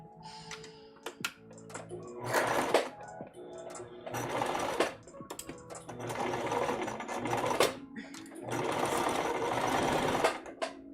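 Sewing machine back stitching a seam on a test dress: several bursts of fast, rattling mechanical stitching separated by brief pauses and small clicks, close and clear.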